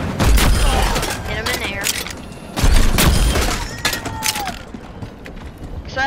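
Grenade launcher explosions from Junkrat in the game Overwatch, heavy booming blasts and clattering bursts layered over dense battle noise, loud and close, with a voice speaking over the action.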